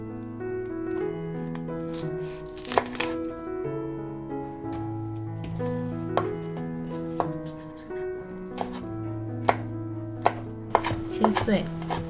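Green scallion leaves being chopped for potato pancakes, with light, scattered knife taps on a cutting board under soft, steady background music.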